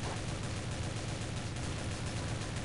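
Rapid gunfire in the video game Deadhunt, a dense, continuous barrage of shots that runs without pause for the whole stretch, loud and close.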